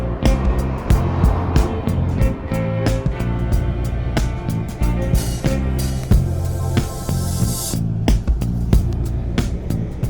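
Petrol courtesy car engine droning steadily from inside the cabin while driving on a cold, icy day, with regular sharp ticking clicks layered over the low hum.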